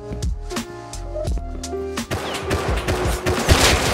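Rapid gunfire from the video game Rust, a dense burst of repeated shots that grows louder and busier toward the end over game sound.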